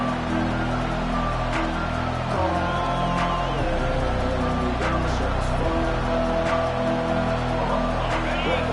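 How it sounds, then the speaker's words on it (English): A Texas football stadium crowd roars in a steady, full-throated wall of cheering and whooping that carries on for several seconds, with an announcer's voice faintly underneath. "This crowd, full throat, spreading the eardrums"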